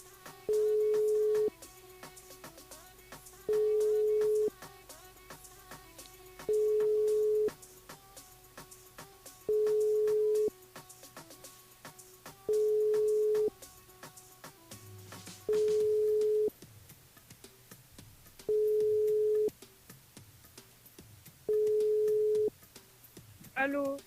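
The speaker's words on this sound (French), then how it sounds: "Elle appelle Kelly." A telephone ringing tone repeats eight times at steady intervals, each burst about a second and a half long, with faint background noise between rings.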